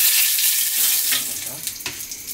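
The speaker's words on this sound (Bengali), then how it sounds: "রামধনু, জিরা দিয়ে দেবো প্রথমে, তারপর রামধনু দিল, এখন তেজপাতা দিয়ে দেবো" Cumin seeds and bay leaf sizzle in hot oil for a Bengali-style egg curry, a steady loud frying hiss with a few sharper crackles near the end, no voices.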